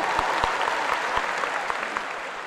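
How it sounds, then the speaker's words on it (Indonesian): A studio audience claps steadily for a guest on an Indonesian talk show in Solo, with dense applause and a few sharper individual claps standing out. "Kasih tepuk tangan dong buat Yusril."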